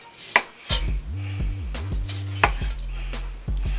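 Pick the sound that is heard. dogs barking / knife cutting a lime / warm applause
knife cutting a lime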